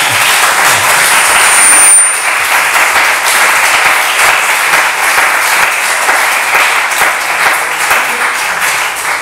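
Applause plays within a film's making-of footage shown to an audience, a loud continuous crowd clapping that stays even from start to finish.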